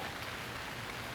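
Steady rain falls in a dense, even hiss with no breaks, close and fairly loud for a short moment.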